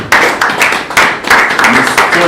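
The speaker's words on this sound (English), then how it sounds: "Round of applause for that." Applause from an audience at an export diploma graduation ceremony, a short loud burst of many hands clapping close by, steady and dense with no talk over it.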